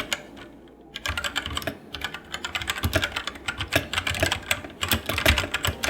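Steady, fast typing on a Drevo Calibur V2 mechanical keyboard with brown switches, muted, rounded keystrokes in a continuous flurry, close up and without talking.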